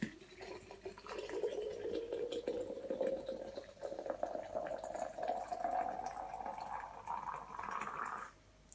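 Iraqi tea is poured from a pot into a glass, a continuous liquid stream whose pitch rises steadily as the vessel fills, ending abruptly after about eight seconds.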